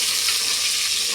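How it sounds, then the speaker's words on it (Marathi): Brinjals sizzling and frying steadily in hot oil, a dense continuous crackle close by with no pauses, used in a spicy stuffed brinjal dish. "तेल गरम झालेलं आहे. आता आपण वांगे टाकून घेऊ."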